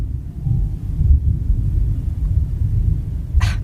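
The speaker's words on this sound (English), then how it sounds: "That thunder is always right on cue." Low, continuous thunder rumbles steadily for several seconds, with a short crisp crackle close to the end.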